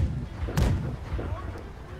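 Ship cannons fire in a Blackwake naval battle aboard a cruiser, one heavy booming shot followed by a softer second report, with rumbling battle noise and a voice underneath.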